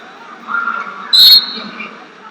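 Referee's whistle blast starting the second period of a collegiate 141 lb wrestling match between Cornell and Missouri, a single short shrill tone of about a quarter second rising out of low arena crowd murmur.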